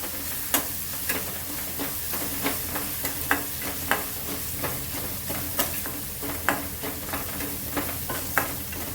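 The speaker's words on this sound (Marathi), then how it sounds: "आणि कढीपत्ता सुद्धा आहे. छान परतून घ्यायचं." Onion and curry leaves sautéing in oil in a pan, with a continuous sizzle and a quick, regular series of spoon scrapes and taps as the mixture is stirred.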